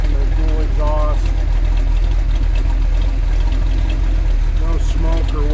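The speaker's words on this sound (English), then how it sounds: "You hear the low rumble and the dual exhaust." A 1969 Plymouth Road Runner with a HEMI engine and dual exhaust idles close by with a steady, deep rumble that holds level throughout, broken only by brief faint chirps in the background.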